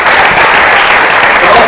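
A studio audience applauds loudly and continuously throughout, a dense, even roar of clapping with no pauses.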